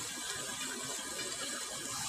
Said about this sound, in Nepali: एकदम डेन्जर खोलाको आवाज